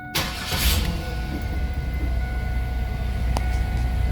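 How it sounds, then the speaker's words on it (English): A 2001 Pontiac Firebird's engine turns over and settles into a steady, loud idle, its low rumble running continuously with a brief sharp click partway through. "Just a quick video of the Firebird starting up and running."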